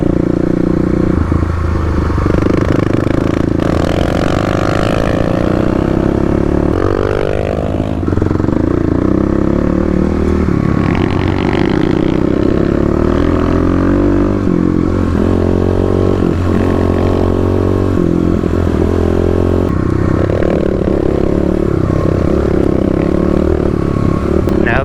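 Stage 3 Kawasaki KLX351 dirt bikes riding Oregon forest trails, a loud, close, continuous engine drone rising and falling with throttle, plus clattering and scraping over rough ground.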